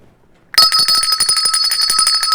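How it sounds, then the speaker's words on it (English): Bells rung at a live-streamed Brooklyn Cafe show start suddenly and keep going as a loud, steady, bright ringing with a rapid pulsing rhythm, no talk over them. "I'll ring the bells."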